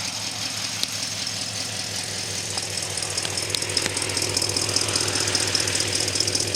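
An old Studebaker engine, just started after sitting, idles steadily with a rough, slightly knocking rumble and light rattles, close by and continuous, through a single exhaust with an old Thrush muffler.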